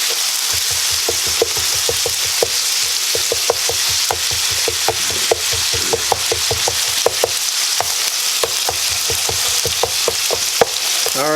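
Ground beef browning in a pan for tater tot casserole, sizzling loudly and steadily, with a regular run of scraping and tapping strokes from stirring throughout.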